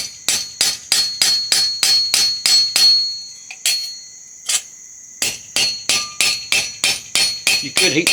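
A hammer strikes metal in a steady run of loud, ringing blows at close range, pauses for a few scattered taps, then resumes a quick rhythmic series of hits that keep ringing.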